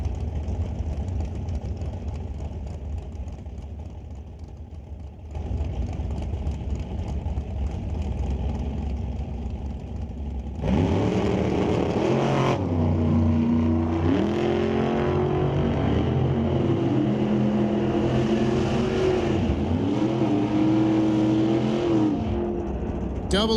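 Drag race cars, a 1956 Chevy Bel Air and a 1957 Corvette Roadster, idle and rumble at the line before launching with a sudden loud roar of revving engines that stays powerful and near, with an announcer talking over it.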